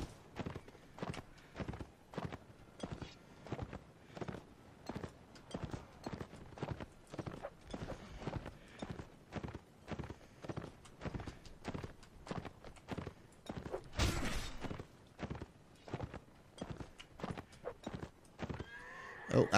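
Horses in a Napoleonic Wars multiplayer line battle game gallop with rapid, steady hoofbeats close by, and a loud whinny cuts through near the middle before the hooves carry on.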